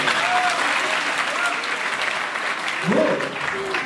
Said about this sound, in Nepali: ताली बजाउन सक्नुहुन्छ?